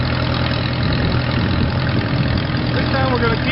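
A Case 430 tractor engine idling out on a farm in October, a steady rumbling drone with a low, slightly knocking pulse, close and continuous, with faint talk over it near the end.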